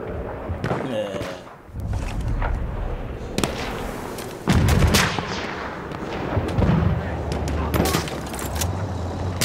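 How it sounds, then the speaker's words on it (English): Gunfire in the Battlefield 1 video game, with bursts of shots and heavy booms cracking at close and middle distance while a player talks over the fighting. "I'm being shot at."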